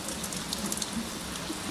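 Rain falls outdoors as a steady, even hiss of drops, soft and continuous with no voices over it.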